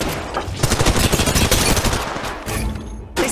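Rapid automatic gunfire rattles in Apex Legends Mobile, loud and close, with dense bursts of shots running almost continuously and a brief pause before a final burst.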